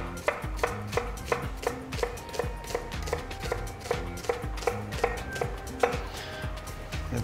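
A knife chops a peeled white onion on a cutting board in a steady, fast rhythm of sharp, close taps, each cut landing with a crisp knock against the wood, and no talk.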